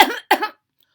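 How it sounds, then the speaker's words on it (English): Two quick harsh coughs voiced by someone reading aloud as a timid dragon, close and fairly loud, then silence. "Herbert coughed and coughed and coughed."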